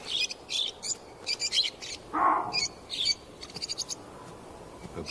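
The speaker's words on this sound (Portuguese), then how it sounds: "Periquitos se abrigam na sombra das rochas." Parakeets calling from the shade of rocks in the Namibian desert, a series of short bright chirps and tweets in scattered bursts, with one louder, lower call near the middle, over a steady outdoor background hiss.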